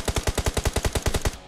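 Automatic gunfire in the video game PUBG Mobile: a rapid burst of about a dozen evenly spaced shots, loud and close, then a quick cutoff.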